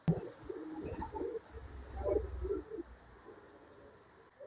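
Old-line pigeons coo in soft, low, rounded bursts over about three seconds, fairly close and moderately quiet, then a quieter stretch follows, with no talking.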